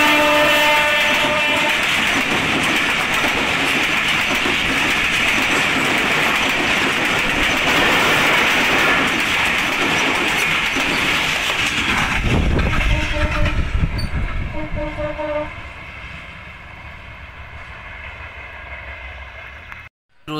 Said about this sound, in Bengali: ট্রেনটি কিন্তু খুব দ্রুত চলে আসছে এবং খুব জোরে হর্ন মারতে মারতে আসছে।